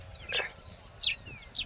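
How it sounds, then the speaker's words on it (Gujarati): Sparrows chirp on a farm field, a few short bright calls spaced apart over faint low background rumble, fairly close. "ચકલીઓ ચી બોલે છે અહીંયા આગળ ગાઈસ."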